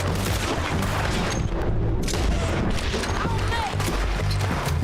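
Gunshots in the video game Red Dead Redemption 2, dense booming and cracking shots layered over a busy roar of game noise, loud and continuous throughout.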